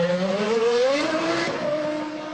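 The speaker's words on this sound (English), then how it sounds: "We're just going to wait while Jos Verstappen comes out the garage." A 2001 Arrows Formula 1 car with a Cosworth engine pulls out of the garage at the German Grand Prix, its high-pitched engine note rising and holding steady, loud and close, with no talk.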